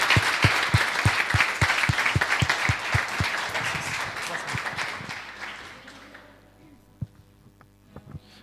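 A church congregation gives a strong round of applause to Jesus, dense steady clapping over a low hum that fades out after about six seconds, leaving a quiet room with a few isolated knocks.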